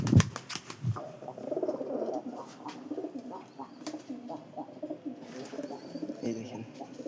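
Pigeons coo in low, repeated throaty bursts close by, with a few wing flaps and clicks, and a voice talks over them now and then.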